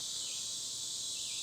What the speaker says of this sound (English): The cicadas are going off, and that's going to be annoying